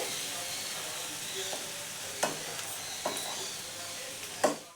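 Ingredients for oats khichdi sizzling softly in a pan, a low steady fry with three sharp spatula scrapes or taps standing out near the end, no one speaking.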